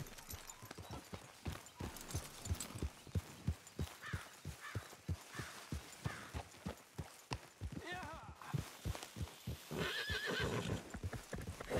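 A horse in the Western video game Red Dead Redemption 2 walks with a steady, rhythmic clip-clop of hooves and gives a neigh partway through, with speech heard alongside.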